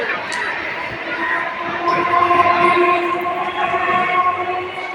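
A train rumbles steadily past nearby, its sustained mechanical drone with tonal hum swelling slightly midway, with no talk over it.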